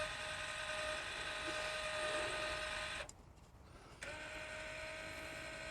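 A Yaesu GS-2800 antenna rotator driven by a Rotator Genius controller turns with a steady mechanical whir and ratchety hum, stops abruptly for about a second, then starts again.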